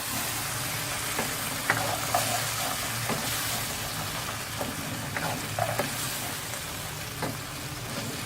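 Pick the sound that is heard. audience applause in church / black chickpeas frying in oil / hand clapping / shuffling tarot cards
black chickpeas frying in oil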